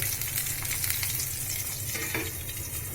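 Fish fry in a pan with a steady, dense sizzle and crackle, the hiss close and even throughout, with occasional faint scrapes of stirring and no voices.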